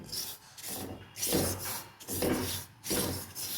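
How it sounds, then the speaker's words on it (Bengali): Semolina is stirred continuously in a pan while it dry-roasts for a Bengali-style upma, making rhythmic gritty scraping and rubbing strokes that come close together and stay fairly quiet. "সুজিটা এবার অনবরত নাড়তে থাকবো সুজিটাকে একটু ভালো করে ভেজে নিতে হবে"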